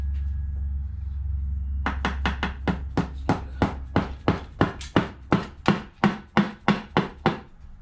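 A blunt chisel gently tapped while dismantling a Phantom 3 engine gives a steady series of about twenty sharp, close metallic knocks at an even rhythm that grow slightly louder over a low background hum.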